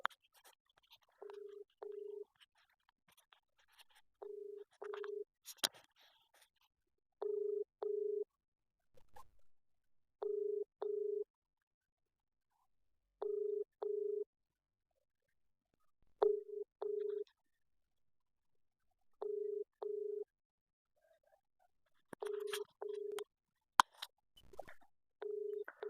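A telephone ringback tone repeats in steady paired pulses, about ten cycles with even gaps, as a call to a district official's phone in Jangaon goes unanswered; faint clicks and background noise come at the start and end.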